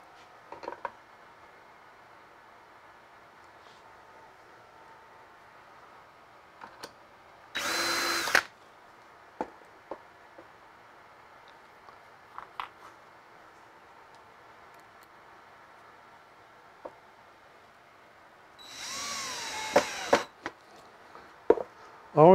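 Cordless power drill driving screws into a self-closing cabinet door hinge during a dustproof printer cabinet build: two short bursts of whirring, one near the start and a longer one later, with scattered clicks and handling knocks in a quiet room.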